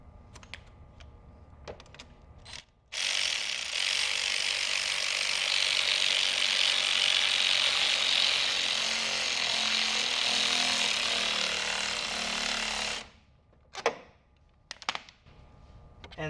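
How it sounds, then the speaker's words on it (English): Hose clamps are tightened during an IMR Stinger intercooler install: a steady, close mechanical whirring and grinding runs for about ten seconds, framed by scattered clicks and taps before and after. "And that tightens up all the clamps on the hoses on this side."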